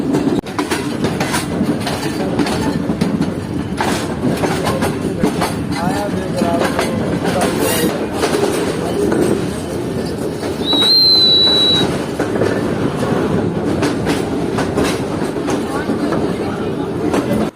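The Sir Syed Express passenger train switches tracks onto the main platform line, a steady loud rumble with rhythmic clickety-clack from the wheels over the points and a brief high wheel squeal in the middle.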